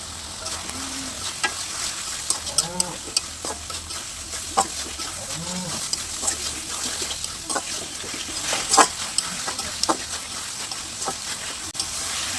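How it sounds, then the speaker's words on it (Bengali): Chicken pieces frying with hand-ground spices in a pan, a continuous loud sizzle with spatula scrapes and stirs, faint bleating sounds of a goat in the background, no talking. "মশলাটা ভালোভাবে কষানো হয়ে গেলে এখানে দিয়ে দিচ্ছি মুরগির গোস্ত।"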